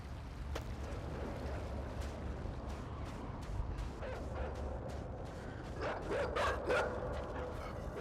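A dog in the video game Inside barks in scattered bursts, sharp yips and woofs over a low rumbling game ambience, with a louder cluster of barks near the end.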